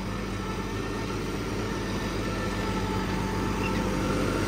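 A tractor in second gear pulls a Superseeder, sowing wheat into a harvested PR126 paddy field. A loud, steady engine drone runs without a break, with no talk.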